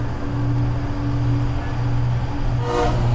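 A White Pass & Yukon narrow gauge railway train runs along a mountainside bench near Skagway, Alaska, making a steady, loud rumbling drone throughout, with a brief higher hiss or squeal near the end.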